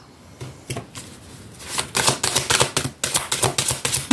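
Tarot cards being shuffled and drawn, with soft riffling at first, then a quick run of crisp, close snapping flicks.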